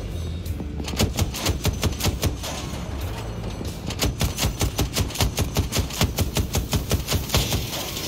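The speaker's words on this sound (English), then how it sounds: "I see gunfire" Rapid bursts of Battlefield 2042 gunfire crack out, a few scattered shots at first, then a long, steady stream of evenly spaced rounds.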